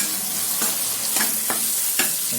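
Onions, ginger and garlic fry in a steady sizzle with a few sharp scrapes of a utensil stirring the pan, no voices.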